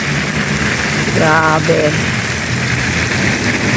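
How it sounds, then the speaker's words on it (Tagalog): Rain appears to splash upward from below, giving a loud, continuous dense hiss, with a man briefly exclaiming partway through. "Umulan na dito, pero baliktad."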